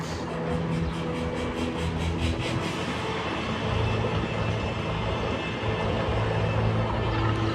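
A loud, continuous rumbling roar of a roller coaster train moving along its track at Cedar Point, with a low droning hum underneath and no talking.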